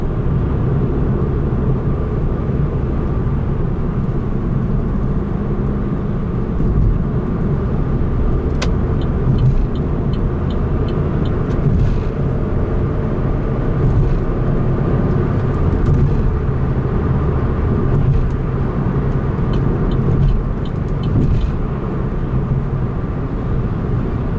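Steady car interior drone as a car drives through city traffic, a constant low rumble with faint passing noises, no talking.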